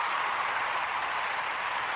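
Steady crowd applause and hand clapping fill the whole stretch at a constant, fairly loud level, a dense wash of many claps with no pauses and no clear talking over it.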